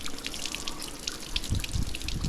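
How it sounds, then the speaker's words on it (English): Cooling water from a 3-cylinder Mercury outboard motor pours out in a steady, close splashing trickle and drip, fairly quiet, with no voices. "Like, it's just dumping out."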